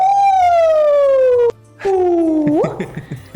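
A voice imitating an ambulance siren, a loud sustained wail sliding slowly downward, breaking off, then rising again into a whoop before trailing into sounds from other voices nearby.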